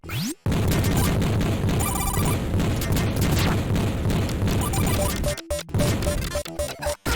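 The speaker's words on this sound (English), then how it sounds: "that is the sound of shotgun" Shotgun blasts from the Sega game Vectorman: heavy, meaty booms and crashes amid dense game music and effects, loud and continuous, broken by a few sharp cutoffs toward the end.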